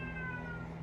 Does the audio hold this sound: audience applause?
no